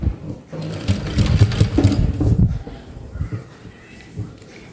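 A sewing machine stitches pleats into a baby cap, its fast mechanical whirring running loud and close for the first half before easing into quieter, intermittent rattling.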